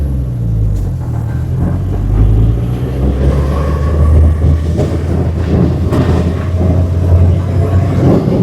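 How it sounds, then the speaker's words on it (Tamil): A vehicle rolls to a halt near an area of scattered houses, its low engine rumble and road noise steady and close throughout with a few knocks and rattles. "நம்ம வண்டி நிற்கிது."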